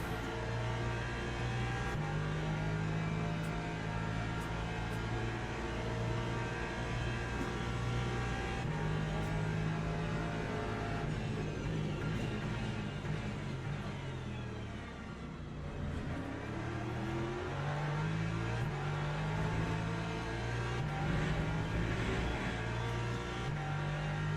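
Porsche race car in a racing video game, its engine droning and revving steadily through gear changes, loud and continuous with pitch rising and falling.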